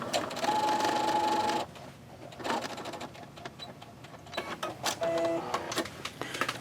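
Sewing machine stitching a welt pocket, with a steady continuous run of needle and motor whir, a pause, then shorter bursts of stitching and handling noise.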